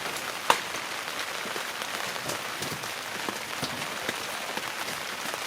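Steady rain falling outdoors during a front strut replacement on a 2014 Dodge Caravan, a constant dense patter on surfaces with one sharper drip near the start and no talking.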